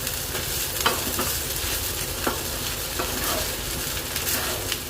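Fried rice with chicken and egg is stir-fried over a full flame, giving a constant loud sizzle with repeated scraping strokes of the spatula in the pan.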